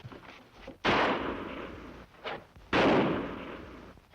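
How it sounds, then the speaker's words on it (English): Two loud gunshots ring out about two seconds apart, each with a sharp crack and a long echoing decay, plus a fainter pop between them. "gunfire. Come from north."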